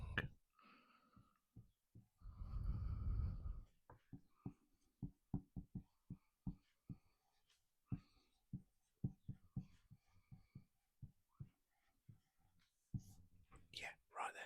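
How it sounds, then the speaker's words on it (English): A pen writing on a whiteboard, soft squeaks and taps in an irregular run of short strokes, very close and quiet, with whispered talking in between. "I've just wrote that right across the middle of the board and taken up loads of room"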